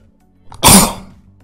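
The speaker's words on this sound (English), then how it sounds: "that was a powerful sneeze" A single sharp, forceful human sneeze bursts out after a short intake of breath, close and loud, then quickly trails away in a quiet room.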